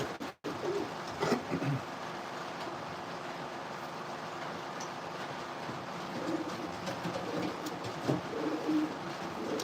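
Racing pigeons coo in a breeder loft, low soft murmuring calls rising and falling at intervals over a constant room hum, with a sharp click near the start.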